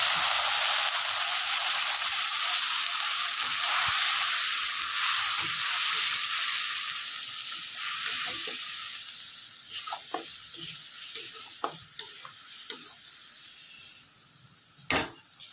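Loud, steady sizzling as ground spice paste hits hot oil in a pan for soybean curry, the hiss gradually subsiding into softer crackles and a few stirring clinks, close and continuous.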